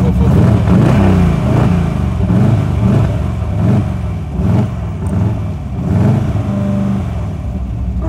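An AC Cobra sports car pulls away with a loud, near engine that revs up in repeated rising sweeps as it works through the gears, then settles into a lower, steadier rumble.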